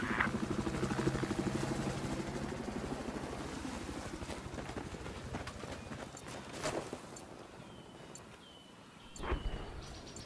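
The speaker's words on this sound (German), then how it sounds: "Westlich von dir ist ein feindlicher Helikopter." Enemy helicopter in the video game Battlefield 4, a continuous rhythmic rotor thump pulsing steadily at moderate distance, fading slightly over time, with a couple of brief sharp impacts or shots cutting through.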